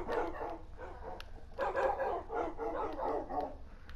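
Minecraft wolves/dogs barking in a PlayStation 4 game, a dense cluster of repeated yips and barks in rapid bursts across the whole span, fairly loud with no talk over them.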